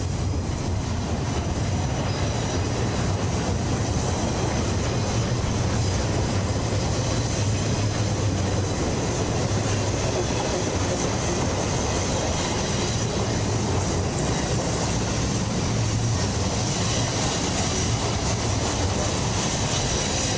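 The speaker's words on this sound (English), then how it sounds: "the freight train was cruising through the famous Tehachapi Pass" A heavy freight train with a distributed power unit at the rear rolls through California's Tehachapi Pass, a continuous loud rumble of cars and wheels with high squealing and faint clickety-clack throughout.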